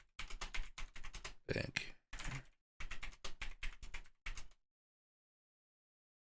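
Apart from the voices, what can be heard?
typing on a computer keyboard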